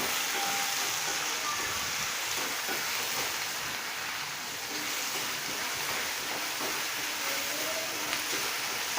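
Chopped onion frying in oil for a spicy fresh chickpea curry, a steady broad sizzling hiss that holds evenly throughout with faint clinks in the background.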